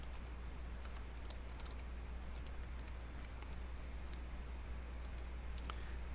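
Quick, irregular clusters of key clicks from a computer keyboard, faint and close against a low steady hum.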